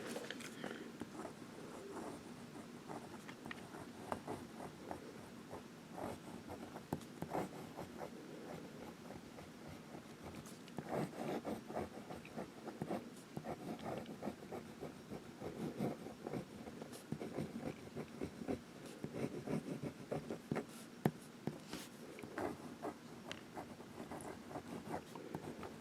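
A calligraphy fountain pen with an extra fine nib scratches steadily across paper, a soft, continuous rustle of strokes close up and faint, with no talking.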